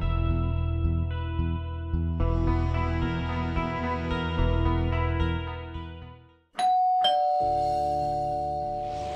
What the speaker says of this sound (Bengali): আরে এত রাতে কলিং বেল কে দিল?